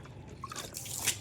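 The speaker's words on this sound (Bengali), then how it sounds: "স্নান তো না, শুধু জল ফেলবে।" A small child splashes and pours water from a basin in a home, producing soft drips and light watery splatters close by, with a brighter splash near the end.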